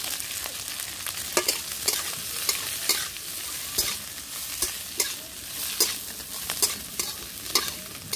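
Fried river fish stirred into hot, sizzling spice tempering in a pan over a village clay stove, with a steady crackling hiss and repeated sharp scraping strokes of a spatula, close and alone without speech.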